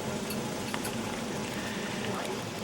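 Liquid poured into a laboratory funnel, a steady close splashing and gurgling stream that runs throughout at moderate level.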